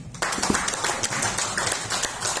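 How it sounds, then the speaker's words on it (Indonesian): An audience at a medical presentation in Singkawang breaks into brisk clapping, many quick overlapping claps that start suddenly and keep going evenly throughout. "Boleh tepuk tangan."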